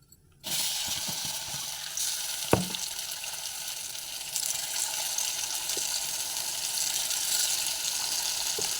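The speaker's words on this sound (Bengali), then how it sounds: "পাতা বাটাটা তেলের মধ্যে দিয়ে না যতক্ষণ না একদম শুকনো শুকনো হবে ততক্ষণ কিন্তু নাড়তে থাকবেন" Ground leaf paste sizzles steadily in hot oil as it is stirred, with a sharp scrape of the utensil early on and a few lighter clicks later, close and continuous with no talking.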